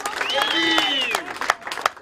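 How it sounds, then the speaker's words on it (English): Crowd applause for sponsor Homebird at a December 2015 Spectacular Circle of Talent Trips event, clapping spread through a room under a steady wash of chatter and cheering. "Give Homebird a round of applause for that"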